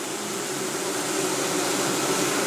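Honeybees from a split made out of a frameless log hive, droning in a steady, dense hum that fills the clip evenly with no voices over it.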